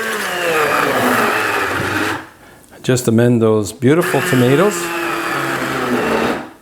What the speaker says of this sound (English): So with a hand immersion blender